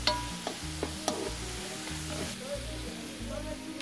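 Sofrito sizzles and fries in a pan for a red snapper soup, a steady close crackle with small pops and stirring scrapes.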